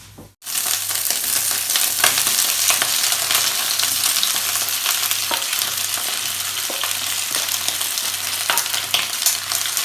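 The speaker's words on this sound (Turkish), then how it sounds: "Ve fasulyelerimizi buraya kavuracağız." Green beans hit hot oil in a pan and break into a loud, continuous sizzle that holds for several seconds, with faint stirring scrapes and a low rhythmic hum beneath, close up and without talk.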